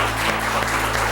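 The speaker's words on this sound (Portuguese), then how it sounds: "Queria convidar a nossa plateia para dar uma salva de palmas para a vida dessa guerreira" A studio audience at a live religious television program applauds, a dense, steady wash of many hands clapping at moderate loudness through the whole brief moment.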